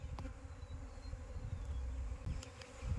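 Aggressive Apis cerana bees swarm around a colony being transferred from its nest, a dense steady buzz of many insects close by, low and continuous with small surges throughout.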